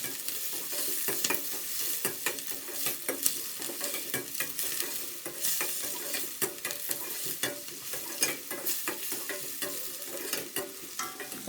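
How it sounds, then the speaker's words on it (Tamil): Onions and capsicum sautéing in leftover prawn-frying oil, a continuous close sizzle with frequent spatula scrapes and stirs at an irregular, busy pace. "அது நல்லா வதக்கிக்குவோம்"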